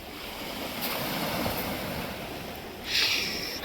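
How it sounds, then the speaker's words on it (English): Sea waves wash over a pebble beach, a steady surf rush that swells near the end as pebbles rattle in the backwash, with some wind buffeting the microphone. "That's all the pebbles getting washed up."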